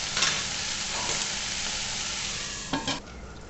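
Masala gravy for paneer masala sizzles and roasts in a pan with a steady, close, bright frying hiss, and a brief louder burst of stirring comes near the end.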